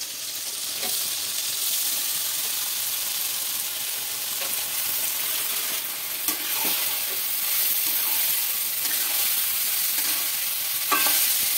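Gobindobhog rice mixed with salt and turmeric is stirred in a pan of hot oil left from frying potol, a steady sizzling hiss broken by repeated scraping strokes of a spoon through the grains; no talking.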